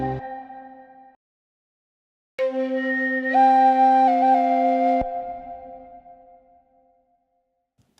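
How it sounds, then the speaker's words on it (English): A modular flute plays sustained, clean notes: one short tone, a pause, then a long held note that bends upward midway and fades out, solo and close. "So what I used was my modular flute here."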